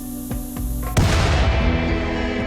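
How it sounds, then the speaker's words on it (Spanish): A mortar in the video game Rimworld blows up with a loud, booming blast after a few sharp shots, followed by a long rumbling roar that slowly fades. "el mortero, el cual explotó tras unos cuantos disparos certeros"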